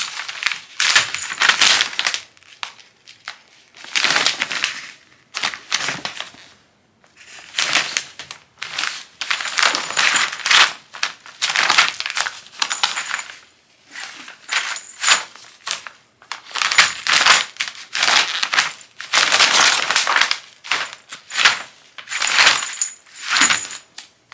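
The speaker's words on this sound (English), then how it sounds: "All I have to do is put the wand toy under the paper, and they attack it." Cats pounce on wrapping paper laid over a wand toy and tear at it, making repeated bursts of loud crinkling and ripping separated by short pauses, with no talking.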